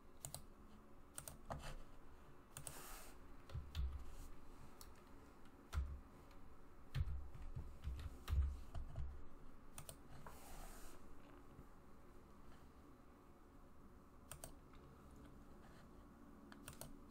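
Someone types a new password on a computer keyboard: soft, close key clicks in irregular bursts and single taps over a quiet background, thinning out toward the end.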